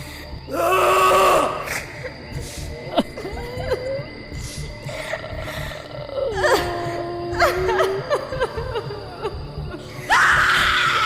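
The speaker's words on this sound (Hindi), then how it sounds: "सुरंग के अंदर बहुत सी रोने की, चीखने की आवाजें गूंजने लगी।" Anguished screams and wailing cries echo inside a tunnel, rising and falling over a low rumble, with drawn-out moaning between the loudest shrieks, sounding hollow and reverberant.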